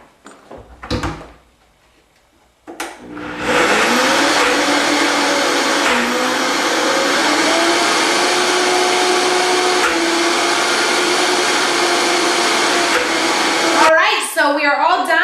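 Blender mixing a cilantro cream sauce, starting after a short knock and a pause, then whirring loudly and steadily for about eleven seconds with slight pitch shifts before cutting off into faint rustling.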